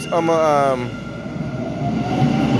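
An MBTA Orange Line train at Roxbury Crossing station rumbles steadily, with a brief rising whine near the start and a low rolling rattle throughout, heard close on the platform.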